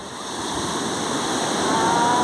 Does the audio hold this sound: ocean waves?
yes